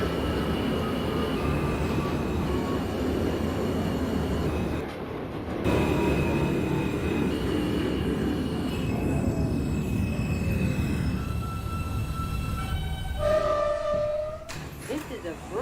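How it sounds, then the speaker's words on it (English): An R160 NYC Subway J local train running in the OpenBVE simulator game: a steady, loud rolling rumble that dips briefly, then continues as thin whining tones rise and shift toward the end. "This is a Brooklyn-bound J local train."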